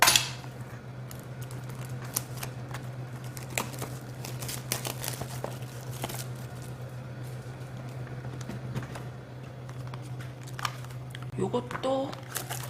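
Tarot cards tipped out of their box in a cluttered, clattering cascade of small taps and rustles that keeps going throughout, close to the listener, with a steady low hum underneath and a brief crinkle near the end.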